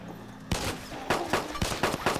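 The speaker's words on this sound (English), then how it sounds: "God, so much ammo going off." Rapid gunfire in the video game DayZ, several loud close shots and short bursts cracking out in an irregular rhythm after a quiet start, with no talk over them.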